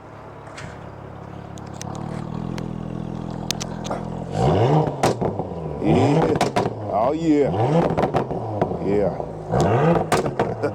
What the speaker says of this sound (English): give me one little more rev, so the people can hear that one last little rev outside.